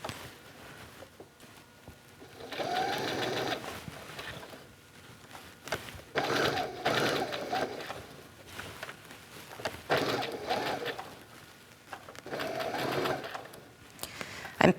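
A sewing machine straight-stitches around a circle for reverse appliqué, running in several steady bursts of a few seconds each with brief pauses between, close and moderately quiet.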